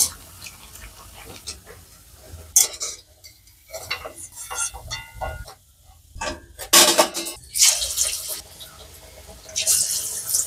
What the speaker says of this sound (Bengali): এখন পেঁয়াজিটা ভাজা করে নেব।